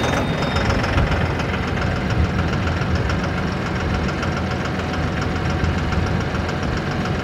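A Mahindra 6075 PST 4WD tractor diesel engine runs loud and close with a rough, knocking idle, a steady throbbing rumble that continues unbroken with no voices.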